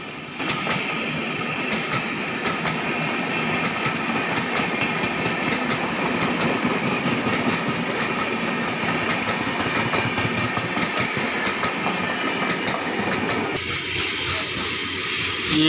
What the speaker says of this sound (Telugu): ఈ గూడ్స్ ట్రైన్ వస్తుందని చెప్పేసి మన ట్రైన్ ఆపేశారు.